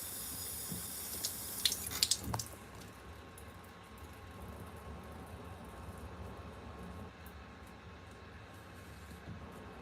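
Tap water runs steadily while the lid of a salad spinner is rinsed under it, a constant rushing spray with a brief louder clatter early on, no voices.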